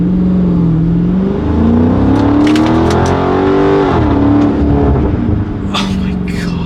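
A 2023 Chrysler 300C with its muffler deleted pulls away from a stop, the engine note rising steadily in pitch and staying loud and close throughout, then dropping briefly as it shifts before climbing again, with occasional speech over it.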